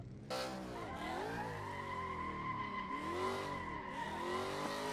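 A car sliding on a drift track, its tires skidding and squealing loudly against steady engine drone as it spins out, close and sustained for several seconds with no talk.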